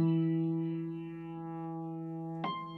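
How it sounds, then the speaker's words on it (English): Sustained piano hit sample with its highs rolled off and a gritty, distorted, grimy character, holding a steady tonal chord before a second brighter hit lands near the end. "Next thing is the piano hit"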